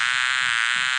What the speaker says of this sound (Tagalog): Sumusunod yung bubuyog sa bulaklak.